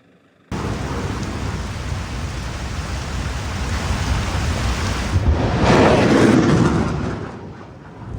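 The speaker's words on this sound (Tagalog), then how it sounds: "Kahit malakas ang ulan" Heavy rain pours in a steady, loud hiss that swells toward the middle and then eases, with low thunder-like rumbling and no voices.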